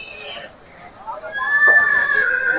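A horse at the Yeola horse market gives a loud, rising whinny that swells in the second half, with a voice audible in the background.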